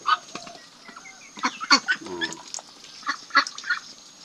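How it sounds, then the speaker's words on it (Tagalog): Pekin ducklings give scattered high-pitched peeps and quacks, close by in a farm setting, in short irregular bursts. "Pero malulusog naman ang ating mga Peking duck."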